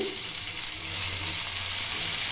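A paste of onion, chili and tomato frying in a pan for a Bengali rui fish curry, giving a continuous bright sizzle with a faint low hum beneath.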